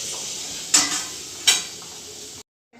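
Oil heating and sizzling in a kadhai while veg or paneer fried rice is prepared, a steady bright hiss broken by two sharp spitting bursts before it cuts off abruptly.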